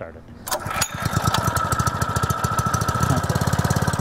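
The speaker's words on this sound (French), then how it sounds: "Pour démarrer, ouvrez le niveau des gaz, ajustez l'étrangleur et tirez la corde de démarrage." A Honda water pump's small engine is pull-started and catches, settling into a fast, even putter of rapid firing pulses, close and loud, with a voice talking over it.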